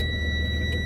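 A truck's low air pressure warning alarm sounds as a steady, high electronic tone over the low rumble of an idling engine during an air brake check, held for the whole moment without talk.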